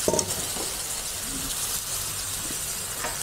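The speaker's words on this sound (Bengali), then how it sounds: "এইবার আমি কচুগুলো কড়াইতে জলে দিলাম" Taro pieces go into a wok holding a little water, giving a steady steamy sizzle and hiss with a faint clink at the start, close and moderately loud with no talking.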